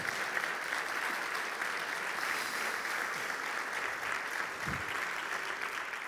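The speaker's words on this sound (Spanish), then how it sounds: "Un aplauso para mis pequeños que han sido parte de mi recuperación" Steady, dense audience applause fills a hall at a talk on recovering from addiction, greeting the speaker's young children, with an even wash of clapping throughout and a brief low thump near the end.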